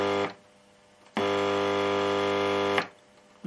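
A valve radio under restoration, tuned to shortwave, gives a loud buzzing mains-type hum with harmonics that cuts in and out in two long bursts separated by quieter static gaps.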